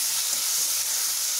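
Tomatoes and ketchup sizzle and fry in a pan for Indian-style veg macaroni, a steady close hiss with faint stirring scrapes underneath.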